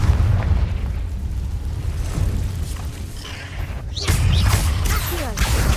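A Confringo blasting spell goes off in the Hogwarts Legacy video game inside a cave, a loud booming burst that swells out of rumbling game ambience with crackling debris.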